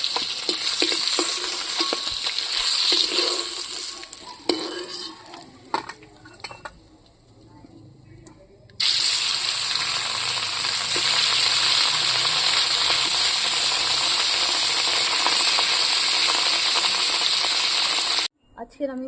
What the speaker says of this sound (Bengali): মাছগুলো তুলে নেব এইভাবে লাল লাল করে ভেজে।